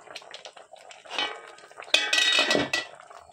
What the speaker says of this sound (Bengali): ঢাকা খুলে নিচ্ছি।